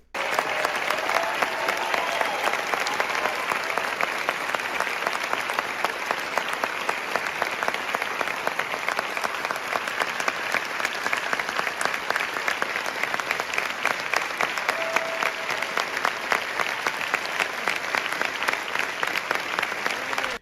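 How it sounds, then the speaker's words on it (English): Steady, dense applause from a large audience in a parliamentary chamber, sustained clapping at even strength for a long stretch, moderately distant with a faint murmur underneath. "Extended applause"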